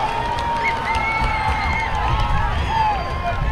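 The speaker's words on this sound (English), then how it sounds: "That got the crowd into it" A high school football crowd at Sterling vs Hillsboro roars and cheers after a vicious hit, a loud, sustained wash of voices with whistles and shouts rising above it.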